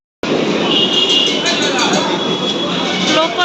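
Train travelling through Kolkata, a loud steady rumble and clatter of the rail carriage sustained throughout after a brief silent start, close by and without speech.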